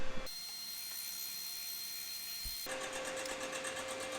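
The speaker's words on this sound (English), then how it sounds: "So I want to see if I can set up this fly cutter here, and we'll make a pass across these heads and clean that surface up" Fly cutter on a machine taking a pass across a Minneapolis-Moline G1000 cylinder head surface, a steady high whirring machining drone with a faint hum, shifting in tone partway through, with no talking.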